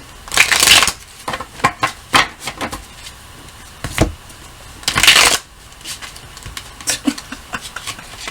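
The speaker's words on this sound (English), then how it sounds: "Don't expect me to get better at the shuffling thing." Tarot cards shuffled in several quick riffling bursts, with softer taps and shuffles between them, close by and fairly loud.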